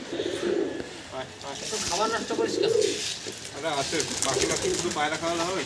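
Pigeons coo softly in repeated low, throaty phrases, with some voices talking nearby over the birds.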